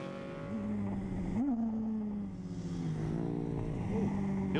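Racing motorcycles, a Honda and a 920 Norton in a Senior Classic race at Skegness Raceway, roar past with rising and falling engine pitch, revving through gear changes at moderate distance, steady and continuous throughout.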